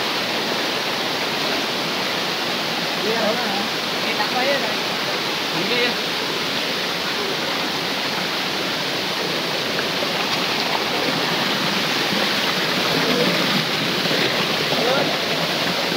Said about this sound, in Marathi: हे बघा या वॉटरफॉलला आम्ही आलो आहे